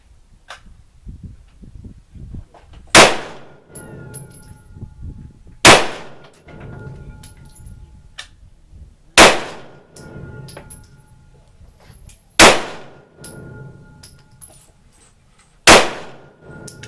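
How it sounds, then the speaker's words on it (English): Five sharp gunshots ring out at even intervals of about three seconds during an ammunition comparison at a shooting session, each a loud close crack with a brief ringing tail over a low, quiet background. "Just slowly pull the trigger to the back."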